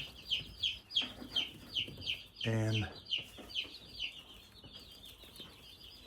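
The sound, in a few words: chicks clucking in a coop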